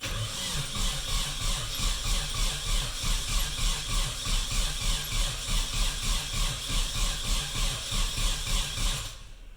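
A Nissan KA24DET engine being cranked over during a rebuild, with ignition unplugged so it never fires; a steady rhythmic starter churn runs for about nine seconds at moderate loudness, then stops.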